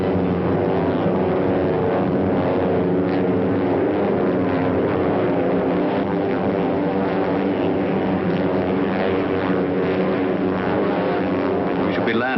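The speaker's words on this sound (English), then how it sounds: "We should be landing shortly, Baron." A propeller airplane cruises steadily before landing, its engine drone loud, dense and unbroken from start to finish, with little change in pitch.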